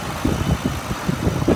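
A 2011 Ford Crown Victoria Police Interceptor V8 idling smoothly, a close, steady low engine rumble with gentle even pulses and no talking.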